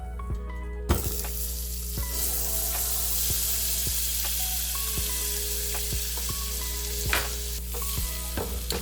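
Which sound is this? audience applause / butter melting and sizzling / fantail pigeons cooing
butter melting and sizzling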